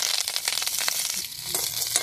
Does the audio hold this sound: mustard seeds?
yes